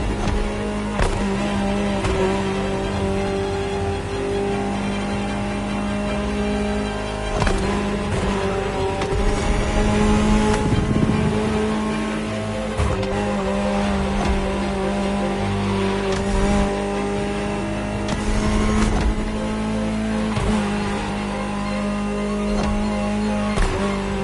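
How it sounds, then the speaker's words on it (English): A Ferrari supercar in The Crew roars continuously under hard driving, its engine revving up and down through gear changes with occasional sharp transients, loud and close throughout. "Just listen to the car you're driving."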